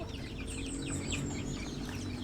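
Mother hens fighting on a poultry farm, clucking and squawking agitatedly in quick overlapping bursts over a constant background of farm noise.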